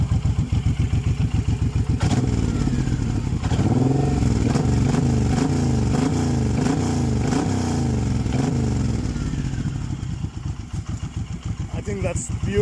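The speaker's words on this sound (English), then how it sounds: "Let's fire up this baby and listen to the exhaust." Suzuki Boulevard M109R cruiser with its factory exhaust, a loud deep rumbling idle that swells into repeated throttle blips and revs before settling back, close by.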